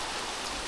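Steady rain falls on open farmland where cotton is grown, a dense, even hiss of drops that holds at one level throughout the brief moment, with no voices.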